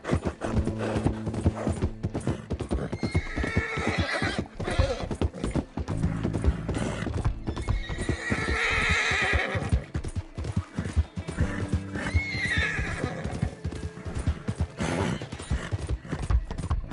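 A horse in Red Dead Redemption 2 gallops with continuous rhythmic hoofbeats, and repeated whinnies rise over the hooves at several points. A rider's brief voice is faintly present.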